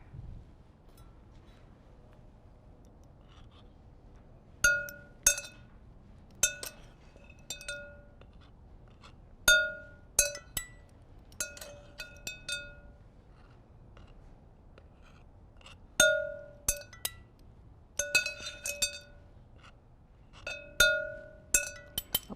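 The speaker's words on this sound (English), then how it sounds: "Okay, whisk this up." A whisk stirring ingredients in a glass bowl, producing scattered bright clinks and taps against the glass in irregular bursts over a quiet background, close and without talking.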